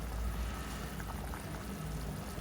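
Liquid simmering in a pot, a continuous soft bubbling hiss with faint pops, steady and close throughout.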